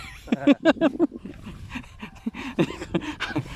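A small dog yaps in a quick burst of sharp barks, then gives a few more scattered yips, fairly close by.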